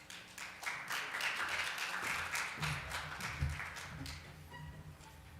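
A forum audience at a 2018 digital economy event applauds to welcome a speaker, a crowd of close, crisp hand claps that builds quickly, holds for several seconds, then thins out and fades.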